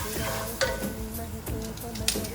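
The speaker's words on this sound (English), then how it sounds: "So whilst the spices are cooking, are frying up, I'm adding the garlic in this." Spices sizzle and crackle steadily in hot oil for Indian dhal, with a spoon stirring and occasional light scrapes against the pan.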